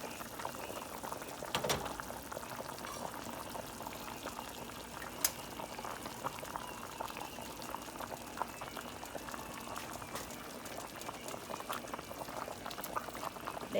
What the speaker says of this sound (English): Our neck bones have been cooking on 5 for about an hour